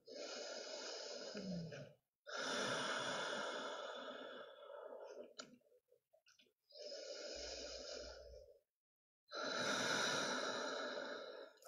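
Slow, deep breaths taken during a seated chair yoga session, four long audible inhale and exhale cycles with brief pauses between, close and clear with no talking.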